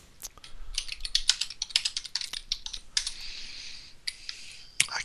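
Rapid computer keyboard typing in irregular bursts of crisp key clicks, close and fairly quiet, with no talking over it.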